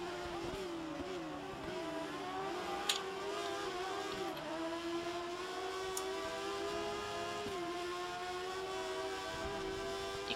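Several F1 race cars in the video game F1 2013 accelerate together, a steady high-pitched engine whine with rising and falling revs over ten seconds, loud and continuous without talk.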